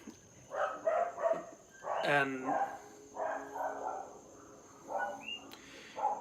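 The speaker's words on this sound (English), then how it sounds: "there are a lot of dogs on my street" Dogs on a residential street outside bark in repeated bursts, heard through an open window at moderate distance while a person speaks nearby.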